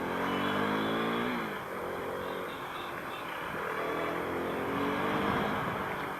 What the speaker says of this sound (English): all I'm doing is clutchless downshifts. Constant clutchless downshift.